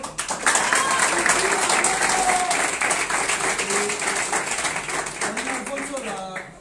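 Group applause welcoming a guest speaker at a meeting of a Spanish-speaking group, steady dense clapping filling the room from start to finish, with a few voices mixed in near the end.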